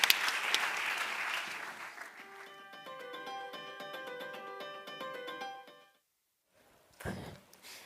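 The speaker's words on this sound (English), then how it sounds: "an applause to all of you" Conference audience applauding panelists at a session on EU legal migration: several seconds of dense clapping fading into a sustained tonal hum, then silence and a brief thump.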